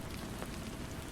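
Steady rain patters on a surface in an unbroken, even wash of sound, close and fairly loud, with no voices or other noises.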